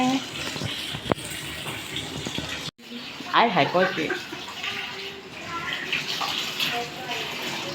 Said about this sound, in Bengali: পানি চলতেছে